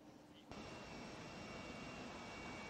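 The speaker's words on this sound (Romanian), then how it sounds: "reporterul nostru, Ana Roman, este în elicopter în momentul de față" Steady, loud engine and rotor roar of a helicopter in flight, heard from on board, starting abruptly after a quieter moment and holding constant.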